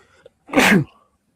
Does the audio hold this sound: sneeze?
yes